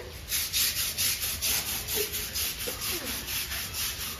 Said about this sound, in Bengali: ঘষে ঘষে পরিষ্কার করাচ্ছে সাবান দিয়ে, ব্রাশ দিয়ে